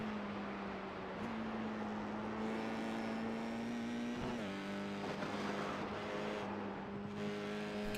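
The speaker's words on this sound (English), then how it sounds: "You can hear the engine when he lets off the gas, when he shifts" An open-wheel amateur race car's engine drones loudly on the Charlotte Roval, its pitch stepping up and dropping as it shifts gears and lifts off the throttle, sustained and close, with no talk.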